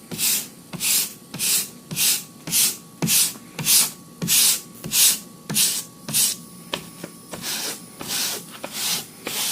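Rhythmic scratchy rubbing strokes, steady and close, repeating about twice per second as a wooden block sands foam on a Porsche 928 dash cover.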